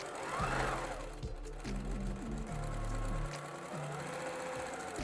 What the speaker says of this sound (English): when we sew this together, like I'm gonna do, 1/4 inch seam, right sides together, back stitch please